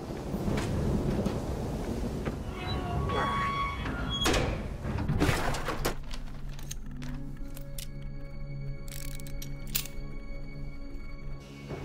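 A door is slammed and secured amid a tense scene in a horror film, with sharp bangs and clatter under hurried, shouting voices, followed by a quieter stretch of scattered knocks and a low hum.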